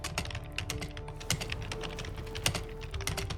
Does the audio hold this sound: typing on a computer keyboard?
yes